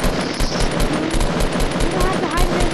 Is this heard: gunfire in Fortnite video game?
yes